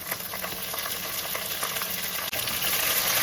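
Onion, green chillies and curry leaves fry steadily in a pan for a fish curry, giving a continuous close sizzle with light stirring scrapes throughout.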